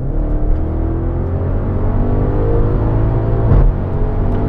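An Audi RS7 Performance with a Milltek exhaust accelerates hard, its deep engine drone climbing steadily in pitch as revs build, loud and close from inside the car, with a brief bark near the end.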